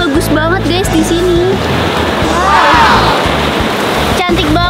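Waves wash steadily onto the shore at Marina Beach in Lampung, a broad, constant surf roar close by, with brief faint voices on top.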